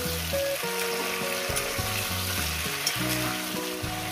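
Potatoes and beans fry in a pan with a loud, continuous sizzle and occasional stirring scrapes, all under melodic background music.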